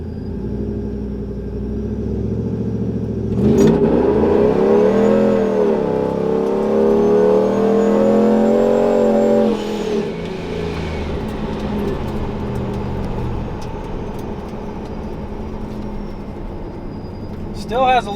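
A TorqStorm-supercharged fourth-generation RAM truck engine rumbles, then accelerates hard with a rising, loud whine and roar before easing back to a deep idle-like drone, with a sharp noise at the start and end.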